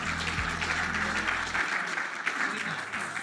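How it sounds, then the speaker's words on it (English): Applause from an audience at a Bondi and districts chamber of commerce event, dense steady clapping of a room of people lasting throughout, with a faint low hum at the start. "Round of applause to everyone."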